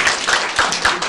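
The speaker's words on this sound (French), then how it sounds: "Vous pouvez applaudir l'artiste." Brief burst of audience clapping for a performer, a few quick loud claps close by with no talk.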